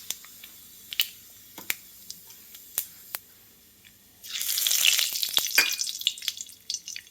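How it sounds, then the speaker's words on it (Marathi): Cumin and mustard seeds hit hot oil, giving scattered sharp pops at first, then a sudden loud, crackling sizzle that keeps spitting and popping up close. "जिरा मोहरी चांगली तडतडली की यामध्ये लगेच हिंग टाकायचं आहे."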